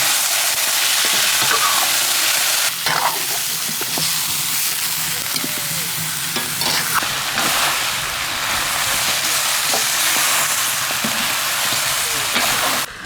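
Beef ribs hit hot oil in a wok and fry with a loud, continuous sizzle and crackle, with the scrape of a spatula stirring them now and then.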